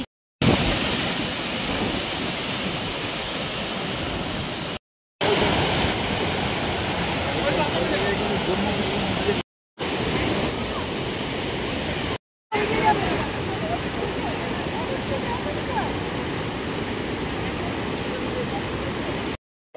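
A waterfall beside a mountain road between Tawang and Bomdila in Arunachal Pradesh rushes as a loud, continuous broadband roar of falling water and spray, broken by a few brief silent gaps.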